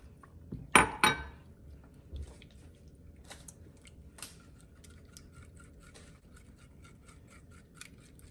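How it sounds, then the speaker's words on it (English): A spoon clinks twice sharply against a bowl while stirring a bread pudding mixture with half and half, followed by quieter scraping and faint taps of the utensil, close and otherwise quiet. "I'm gonna give this a good stir."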